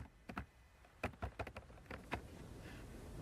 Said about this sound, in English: I don't even bother typing things correctly anymore